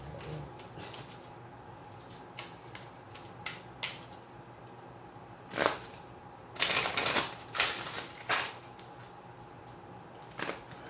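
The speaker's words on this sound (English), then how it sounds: "One more shuffle" Tarot cards being shuffled, with close, quiet crisp riffles and soft slaps in irregular bursts, louder in the middle.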